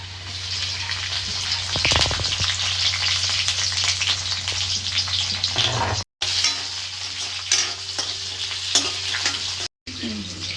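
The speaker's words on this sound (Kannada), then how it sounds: "ಈಗ ಹಸಿರು ಮೆಣಸಿನ್ಕಾಯಿ ಹಾಕೊಳ್ತಾ ಇದ್ದೀವಿ" Garlic and green chilies fry with cumin in a hot pan for a festival meal. A loud, continuous sizzle and crackle stays close throughout, with stirring scrapes mixed in.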